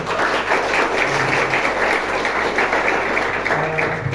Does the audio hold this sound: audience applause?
yes